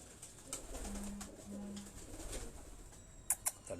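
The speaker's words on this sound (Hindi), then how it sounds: "वो सब्ज़ गले वाले कबूतर" Green-necked pigeons, also called nag pigeons, coo softly twice against a faint outdoor background, followed by a few sharp chirps near the end.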